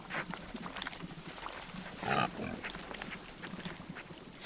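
A pig in the online RPG Book of Travels gives soft grunting oinks, with one clearer snort midway, over a steady ambient background at low volume.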